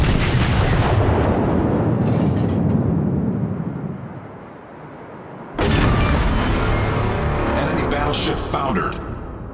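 Heavy naval gun salvos from a Kongo battleship in World of Warships boom loudly, rolling and echoing, fading into a lull before another powerful volley erupts, with game radio chatter.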